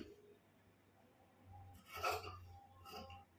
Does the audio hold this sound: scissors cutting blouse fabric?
yes